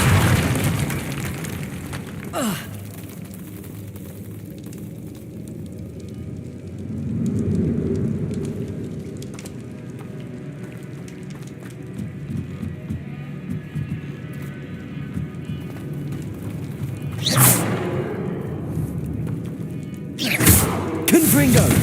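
Confringo spell blasts in the video game Hogwarts Legacy: a few booming bursts spread across the stretch, separated by long quieter rumbling game ambience.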